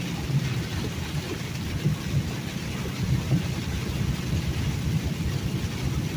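Steady heavy rain with low rolling thunder during a truck drive between Louisiana, Alabama and Mississippi, a continuous dense wash with deep rumbles throughout and no talking.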